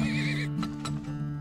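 A horse in the Turmoil oil-drilling game lets out a clear, quavering whinny, followed by a couple of soft hoof thuds and snorts against a low, steady musical drone.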